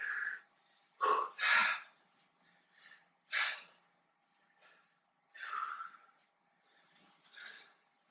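During taekwondo training, a person exhales forcefully through the mouth and nose in a series of sharp, close breathy bursts, some paired, separated by brief quiet pauses, with no talking.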